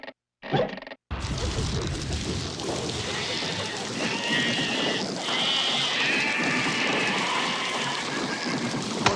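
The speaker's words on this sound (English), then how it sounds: "Watch out, sheep." Sheep bleating in The Neverhood video game, a continuous bleat-like sound rising after a brief silent start and holding fairly loud and steady over a rainy, noisy background.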